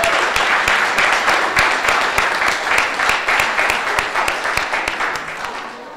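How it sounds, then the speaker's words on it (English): A crowd at a Cape Verdean Association Martin Luther King Jr. Day celebration applauds poetry readers, loud sustained clapping with distinct sharp claps standing out, gradually tapering toward the end. "I think that deserves a round of applause"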